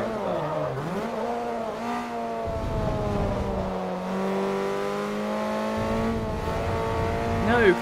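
A Toyota Celica racing in Forza Motorsport 3, its engine droning steadily and rising and falling in pitch through gear changes and revs, near and continuous.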